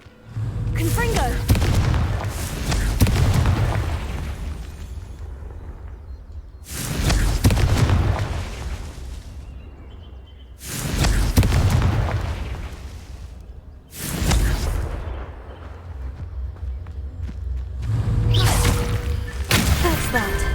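Confringo spell explosions cast in a Hogwarts video game go off as about five loud, booming blasts spaced a few seconds apart, each with a whooshing burst that fades into rumble before the next.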